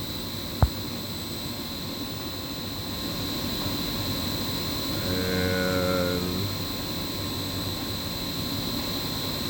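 A Blau/KBL domestic booster pump drive runs with a steady electrical whine and hum, its tone swelling briefly midway as it oscillates under water demand, with one sharp click near the start.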